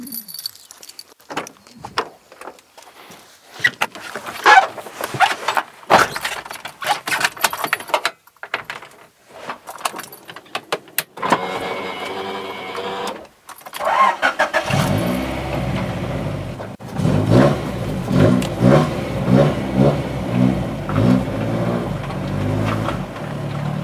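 A lightened Honda Civic with a B16 engine on the Estrada dos Romeiros: keys jangle and clicks first, then the engine starts and revs, then a loud, sustained run of acceleration with rising engine tone over the final seconds.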